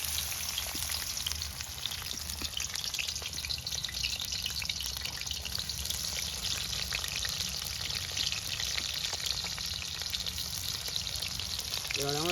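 Onions sizzling in hot oil for a village-style country chicken curry, a steady, close crackling fry with a dense hiss that runs unbroken the whole time, with no talk over it.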